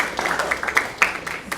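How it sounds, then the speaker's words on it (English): An audience at an evening student event applauds the parents, scattered, irregular claps from a modest crowd with a few sharper nearby hand strikes standing out, continuing steadily for the whole short stretch. "So will you guys applaud your parents"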